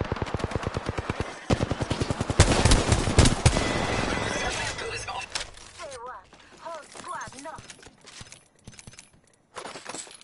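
Gunfire in a PS4 shooter game: rapid automatic bursts up close, then a heavier burst of overlapping shots, with voices talking over the quieter part after the shooting.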